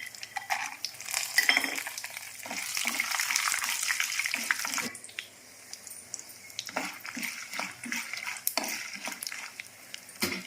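Dried red chillies and cashews fry in hot oil in a pan for lemon pulihora, a soft, steady sizzle with occasional stirring scrapes and clinks, close by and fairly quiet, with no talking.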